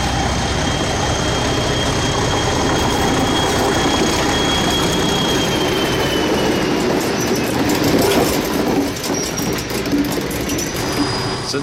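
Restored DI-1102 diesel locomotive running on rails, a continuous loud rumble with a faint high squeal and light clatter of wheels, steady throughout with no talking.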